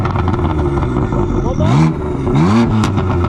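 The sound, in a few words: BMW M3 engine revving with exhaust valves open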